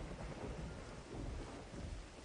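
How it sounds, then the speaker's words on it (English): Steady rain with a low rumble of thunder from the video game Dread Dawn, a continuous wash of noise with no voices. "It's starting to rain."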